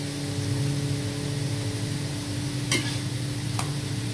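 A paratha fries in a pan with a quiet, steady sizzle beneath a low hum, broken by two short sharp clicks or scrapes near the end.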